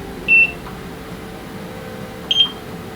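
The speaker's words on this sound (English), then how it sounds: "This one shoots by itself. You don't have to press a button to activate it. So you will hear 2 beeps and lift." Two short, high electronic beeps from a NIRA skin laser device, one near the start and one near the end, each brief and clear over a quiet background.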